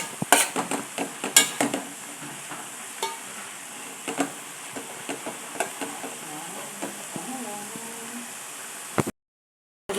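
Tambdi bhaji with grated coconut being stirred and fried in a pan, with a soft steady sizzle broken by repeated scraping clinks of a spoon against the pot, close and fairly loud, then a brief pause near the end.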